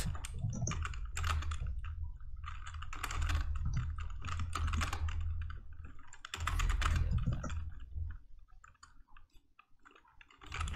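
Rapid, uneven clatter of keys on a computer keyboard while playing Skribbl.io, with dense bursts of typing through most of the stretch before it thins out near the end.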